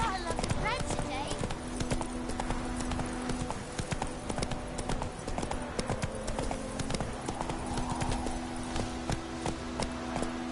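Horse hooves clip-clop steadily at a walking pace in The Witcher 3, close and continuous throughout, with background game ambience beneath and occasional voices.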